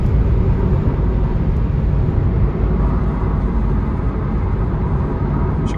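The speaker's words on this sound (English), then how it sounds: "She downshifts perfectly fine." A Scion tC car, bought at auction, drives at highway speed with a steady, loud engine drone and road rumble heard from inside the cabin, with slight shifts in tone as it downshifts.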